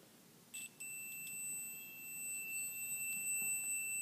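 A multimeter's continuity beeper sounds when its probes touch, a steady high-pitched tone starting after about half a second and holding, faint over a quiet background hiss.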